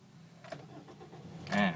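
Toyota Vios engine starting with a newly coded chip key: quiet clicks, then a short burst of cranking that catches near the end, close by.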